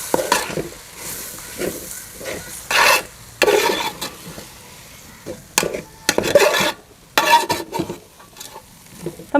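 A spoon scrapes and stirs coriander and turmeric powders into chicken masala in a sizzling pan, in repeated short bursts of rasping strokes with quiet gaps between.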